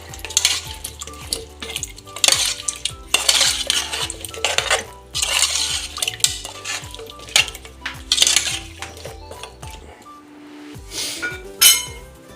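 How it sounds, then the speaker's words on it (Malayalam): A spoon scrapes and clinks repeatedly against a pressure cooker pot while a drumstick soup mixture is stirred, the close metallic knocks coming in busy irregular bursts with a faint sizzle beneath and no talking. "കട്ട വെക്കാതെ നമുക്ക് മിക്സ് ചെയ്ത് കൊടുക്കാം"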